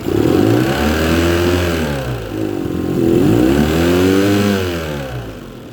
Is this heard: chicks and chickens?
no